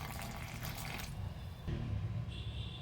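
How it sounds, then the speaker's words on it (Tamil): Water is poured into sweet potato flour dough for a paratha. A soft, splashing trickle comes close up, shifts partway through, then turns to a quieter dribble. "இப்போ தண்ணி சேர்த்துக்கிறேன்."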